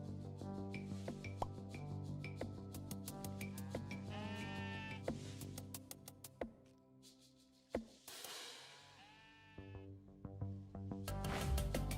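Sheep bleating in the video game Necesse, repeated wavering bleats layered over steady game music with occasional clinks and effects, fairly prominent in the mix.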